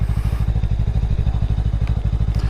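A Lifan KPT 400 motorcycle is ridden with a fitted front sprocket swap, its engine running in a steady, rapid low thump with a muted, fairly quiet exhaust and faint rattling clatter throughout.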